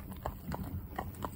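Hooves of a cob clip-clop on a road at a steady walking rhythm, about five distinct, fairly quiet hoof strikes in just over a second with faint background noise.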